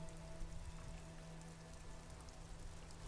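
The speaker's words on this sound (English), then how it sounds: "Rain drips from the eaves and floods the gutters, washing the filth away." Steady rain pours over a great city in a video game, a dense continuous hiss of drops drumming on surfaces and running water, even and unbroken throughout with no voices.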